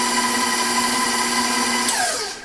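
An electric mixer whirring steadily as it whips cake batter light and fluffy, a constant tonal buzz that winds down in pitch at the end.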